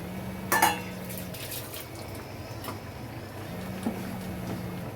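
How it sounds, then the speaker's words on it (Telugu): Fish curry in a pot is stirred gently, with a few light clinks of utensil on metal over a low simmering hiss, quiet and sparse. "ఇట్లా కొంచెం మెల్లగా కలపాలి"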